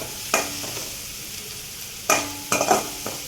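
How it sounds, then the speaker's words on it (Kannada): Garlic and green chilli paste fries in a pan, a soft low sizzle broken by a few sharp scrapes of a spoon stirring against the metal, quiet and close. "ಹಸಿ ವಾಸನೆ ಹೋಗೋವರೆಗೂ ಇದನ್ನು ಫ್ರೈ ಮಾಡ್ಕೊಳ್ಳಿ"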